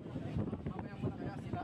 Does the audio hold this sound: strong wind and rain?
yes